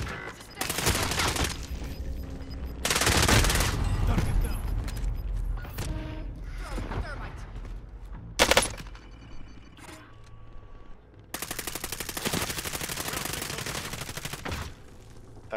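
Repeated gunfire bursts in a video game, loud fusillades and machine-gun volleys in clusters with a sharp single shot midway, running nearly the whole stretch.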